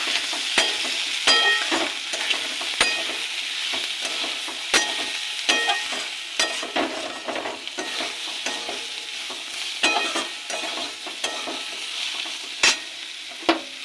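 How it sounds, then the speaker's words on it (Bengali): Salt, turmeric, cumin and chilli powder sauté in a pan for a small-fish chorchori, with a steady soft sizzle broken by repeated sharp scrapes and taps of a spatula stirring close by, no voices. "দেব লবণ হলুদ গুঁড়ো জিরের গুঁড়ো ও একটু লঙ্কার গুঁড়ো আর এটাকে কষিয়ে নেব"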